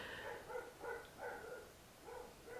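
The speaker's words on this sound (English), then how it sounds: "I hear dogs barking in the background" Several faint barks from a dog in the background, about five soft yaps spaced roughly half a second apart, distant and quiet.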